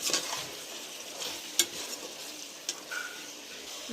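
Mutton sizzles in a hot pan while a spoon stirs and scrapes against the metal, with a few sharp clinks.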